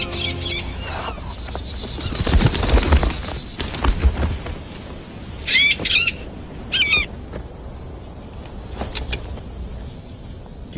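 Bird calls ring out in short, sharp bursts, a few squawking pairs and single cries spaced over several seconds, loud and close against a faint background hum.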